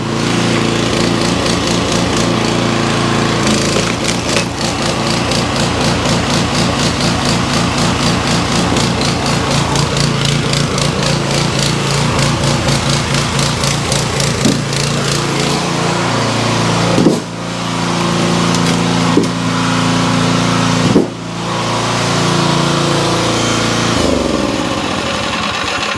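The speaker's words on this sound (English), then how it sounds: "One thing about that old log splitter, it does start on the first pull." An old gas-powered log splitter engine runs continuously while firewood is split, a loud, close, steady chugging drone with a few sharp dips and knocks near the end.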